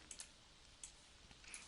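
A single sharp mouse click lands at the very end, preceded by a few faint softer clicks in near silence.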